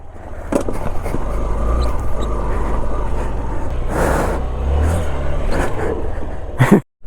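An off-road vehicle drives through snowy mountains, its engine a steady loud rumble close up with scraping road and wind noise throughout, ending in a brief clatter.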